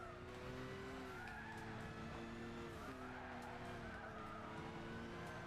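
Race cars lapping Suzuka Circuit in Gran Turismo 6, several engines droning with shifting pitch and tires squealing through the corners, steady and moderately loud with no talking.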